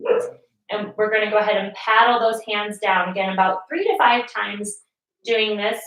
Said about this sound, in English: I apologize for my dogs barking right now.